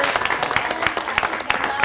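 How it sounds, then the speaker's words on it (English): A short burst of continuous audience clapping at a healthy longevity conference round table, fairly close and steady, with talking mixed into the applause. "And big applause for Martin."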